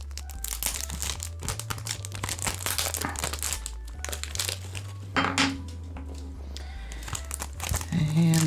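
Plastic shrink wrap crinkles and tears as it is stripped off a boxed Zombies Ate My Neighbors/Ghoul Patrol collector's edition game, close and continuous with a low hum beneath and a voice cutting in near the end.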